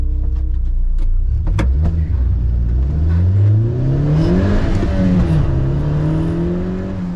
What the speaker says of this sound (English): in a moment we'll hear that Porsche come past again